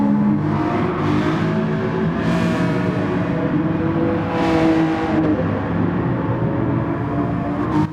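A Honda NSX accelerates hard on a race track, its engine note loud and close, rising in pitch through gears with steady continuous roar and no talk.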